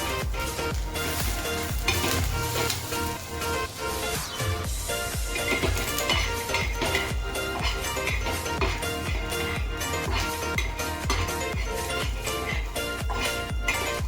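Finely chopped dried coconut and onion frying in oil, a steady close sizzle with faint stirring scrapes running evenly throughout.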